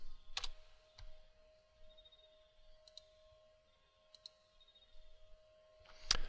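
Sharp computer mouse clicks, a crisp one near the start, a few fainter ticks in the middle and another firm click at the end, over a quiet room with a faint steady hum.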